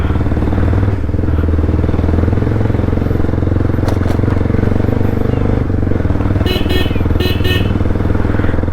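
An off-road motorcycle rides along a road with a steady, close engine drone that continues throughout, and a few short higher sounds break in near the end.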